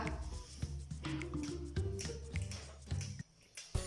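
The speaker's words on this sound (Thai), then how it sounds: "จากนั้นเราก็จะเอาไม้บรรทัดมาเคาะนะคะ" Ruler tapping water in a ripple tank for a wave experiment, a series of quiet, close taps and wet splats in an irregular rhythm, each with a short liquid drip or squish.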